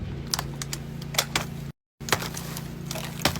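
A YoYo stroller being folded one-handed, giving a quick series of sharp plastic and metal clicks and latching snaps over a steady low background hum, with a brief dropout midway.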